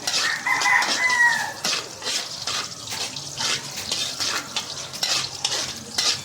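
Sliced garlic fries in a pan, a loud, crackling sizzle with sharp spattering pops that holds steady throughout, with some clatter and a chirpy tone early on.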